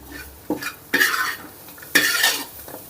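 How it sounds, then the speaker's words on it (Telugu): Freshly grated coconut fried in a pan over a low flame, a spoon or spatula stirring and scraping against the pan in three or four distinct clattering strokes over a faint sizzle, close up with no talking. "ఆ పచ్చి కొబ్బరిలో చెమ్మ పోయేంత వరకు ఒక రెండు నిమిషాలు స్టవ్ని లో ఫ్లేమ్లో పెట్టుకొని ఫ్రై చేసుకుందాం"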